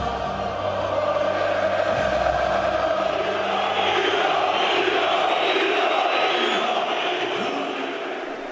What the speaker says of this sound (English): Inside the ground, the crowd were coming to the boil.